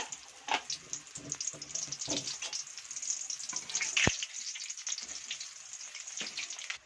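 Kovakka bondas frying in hot oil give a light, uneven sizzle, with a few close stirring clicks and scrapes and a sharp knock near the middle; no one speaks.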